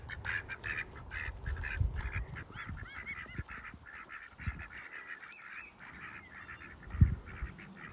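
Ducks quack in scattered, overlapping calls at moderate distance, with a few louder thumps and rustles underneath.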